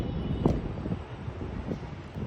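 Strong wind gusting across a rooftop, a steady buffeting rumble with brief louder surges against the microphone, fairly close and with no clear talk.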